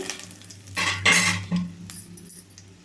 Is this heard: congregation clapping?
no